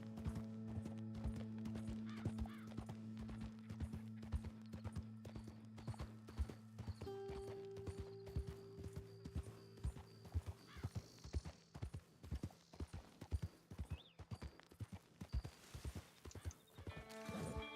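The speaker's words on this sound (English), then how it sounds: "The horse is so much better at galloping than when we got him." Horse hooves in Red Dead Redemption 2 clip-clop in a steady galloping rhythm for the whole stretch, close and clear, over a low ambient game drone with no talking.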